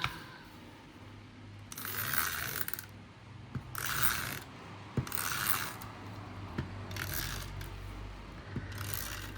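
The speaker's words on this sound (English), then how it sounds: "I need to get my Tombow tape runner. And we're going to cover this." A Tombow tape runner rolling tape onto a planner page, with five short close rasping, ratcheting passes separated by pauses and light clicks and taps between them.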